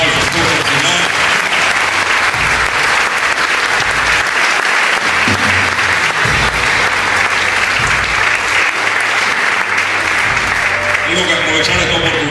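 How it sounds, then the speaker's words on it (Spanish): Loud, sustained applause from a church congregation fills the space throughout, a dense steady wash of clapping with some voices and cheers mixed in. "Dale un aplauso fuerte al Señor"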